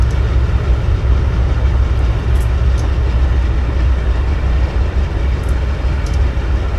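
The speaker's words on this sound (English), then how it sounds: "There should be another train coming here shortly." A CSX freight train approaches in the video game Train Sim 2015, a steady loud low rail rumble and rolling drone with faint high metallic squeaks, no talk.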